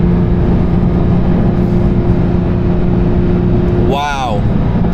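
A 2022 Porsche 911 992 GT3 engine drones steadily under load while driving, heard from inside the cabin, then a quick rising sweep breaks through near the end before the drone resumes.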